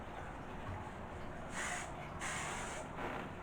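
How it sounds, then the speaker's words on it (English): Several short hissing spray bursts from a KMS hairspray can, close and fairly quiet, spaced apart over a low background hum. "I'll just take some hairspray, the KMS, and just kind of spray everything"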